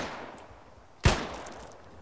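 A single loud gunshot cracks out in the ARMA 3 military shooter, set in Fallujah, rising sharply over a low background and then fading away with no other shots.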